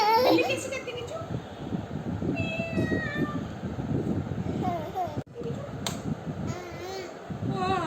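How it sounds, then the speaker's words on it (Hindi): A device-played cat meow sounds in a home, a string of clear, rising and falling meows close to the microphone, mixed with a child's and adult's voices talking. "Alexa, बिल्ली की आवाज निकालो।"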